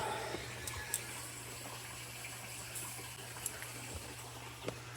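Steady water rushing and hissing from a hose filling a tank, continuous and fairly loud, with a low hum underneath and occasional small clicks.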